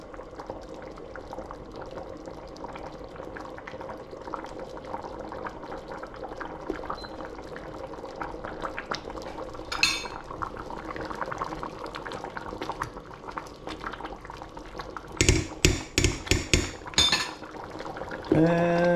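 Mushroom soup simmering in a pot in a home kitchen, a steady bubbling hiss running throughout, with a few sharp clinks and knocks of a utensil against the pot near the end.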